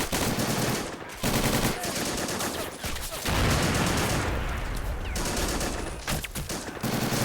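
Sustained bursts of machine gun fire in the plastic army toy battle game Army Men: Plastic Wars, loud and dense with rapid overlapping shots and short pauses, continuing for several seconds.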